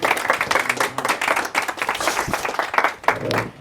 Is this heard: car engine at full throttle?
no